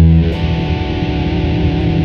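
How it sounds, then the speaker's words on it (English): Electric guitar played through a distorted channel: a thick, saturated sustained chord that rings on loud and steady, with no other sounds. "that's what this guitar sounds like. It's got this distortion sound."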